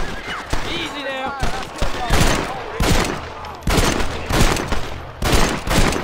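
Rapid bursts of gunfire in the PC game Red Dead Redemption, several loud volleys and single shots spread across the stretch with a voice talking in between.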